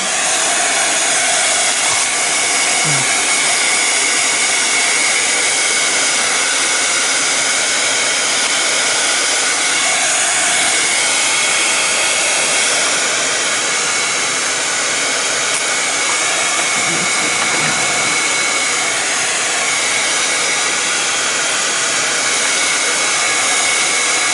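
Heat gun or hair dryer drying an art journal page, a loud steady blowing roar held continuously from start to finish, close by with no talk.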